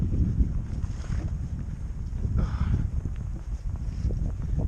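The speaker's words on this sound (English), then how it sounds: "I hope you can hear me with the wind." Wind buffets a microphone outdoors while walking toward a Welsh mountain bothy, giving a steady low roar with gusty swells throughout and no voice.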